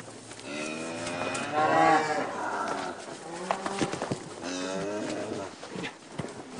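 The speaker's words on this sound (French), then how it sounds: "Jane et Fred possèdent un troupeau de 25 vaches." A herd of 25 dairy cows on a farm in British Columbia, Canada, mooing several times in long, drawn-out calls, close by and fairly loud, one after another.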